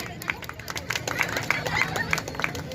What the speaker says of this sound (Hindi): हम तालियों की गड़गड़ाहट से बेहरा टोली के भाई बहनों को हम लोग धन्यवाद देंगे